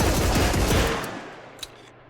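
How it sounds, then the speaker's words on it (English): An M1941 Johnson rifle fires in the shooter game Marauders, a rapid burst of close, loud gunshots from the hip that cuts off and leaves a fading echo with one faint click afterward. "We're going to be testing the Johnson out now, the M1941 Johnson"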